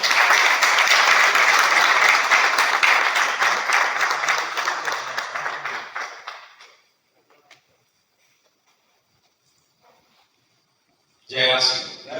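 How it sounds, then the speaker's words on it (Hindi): Applause from an audience at a technical counseling meet welcomes a speaker, dense and loud at first, then thinning and fading out over several seconds before a voice begins. "आपकी जोरदार ताली के साथ अरुण कुमार जी वेलकम"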